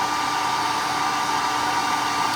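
A hair dryer runs steadily to dry milk paint on an embossed furniture finish, a loud, even, close-up whooshing blow with no change in pitch and no speech.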